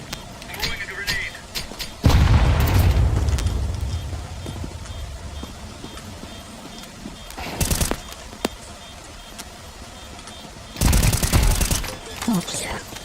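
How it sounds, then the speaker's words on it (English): A grenade blast in a tactical shooter video game, a loud broadband boom that decays over about two seconds, followed later by two short bursts of gunfire. "Throwing a grenade"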